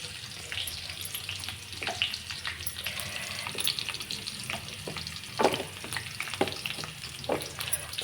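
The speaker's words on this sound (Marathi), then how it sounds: "चांगल्या शेंगा तेलात परतल्या" Drumsticks (moringa pods) sautéing in hot oil in a home kitchen, a steady close sizzle with scattered stirring clatters and scrapes of a utensil throughout.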